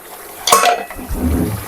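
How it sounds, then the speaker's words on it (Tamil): Water poured into a cooking pot of simmering chana curry, a brief bright splash followed by a low gurgling fill, close by. "தண்ணியை வந்து இதில் ஊற்றிட வேண்டியது தான்."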